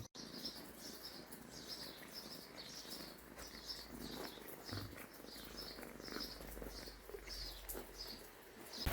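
A kitten purrs close by in a soft, steady, rhythmic rumble that continues for several seconds, faint against a quiet outdoor background.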